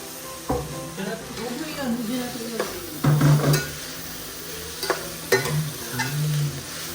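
Garlic fried rice stirred and frying in a pan, a steady sizzle broken by scraping and knocking of the spatula, with voices talking in the background.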